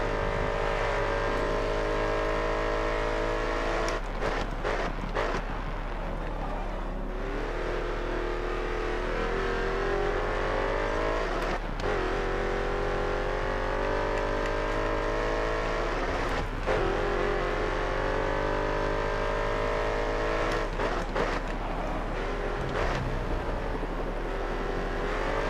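Race car engines in GRID Autosport, a continuous loud roar rising and falling with gear changes and occasional sharp shift cracks, sustained throughout without speech.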